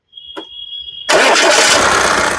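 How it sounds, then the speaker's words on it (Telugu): A short electronic beep, then a 2014 Audi A4 automatic engine cranks and roars to life in a single start, settling into a loud, close running rumble. "ఒకసారి ఇంజన్ స్టార్ట్ చేసి చూపిస్తానండి ఇంజన్ స్టార్ట్ చేసి"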